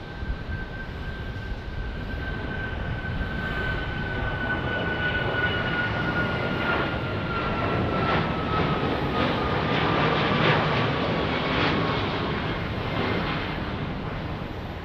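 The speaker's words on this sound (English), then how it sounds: "And here comes WestJet, taking off, going to Canada." A WestJet airliner takes off at Phoenix Sky Harbor Airport, its jet roar swelling and holding loud and broad with a high engine whine sliding downward.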